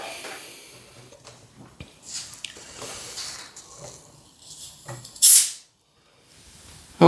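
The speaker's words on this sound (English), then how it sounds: "There was a bit of fizz." A chilled, tightly sealed bottle of homebrew hard orangeade made with turbo yeast opens with a single sharp, loud burst of fizzing hiss that cuts off quickly, followed by quiet and faint handling noise.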